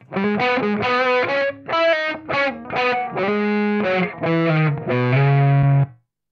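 Distorted electric guitar through a Waves PRS Supermodel virtual amp with an added gain boost, playing a short riff of chords and single notes with heavy gain, loud and up close, ending on a sustained note.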